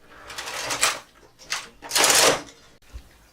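A knitting machine carriage sliding back and forth to knit an i-cord, giving two or three loud, whooshing mechanical clattering sweeps with quiet gaps between them, close by and free of talk.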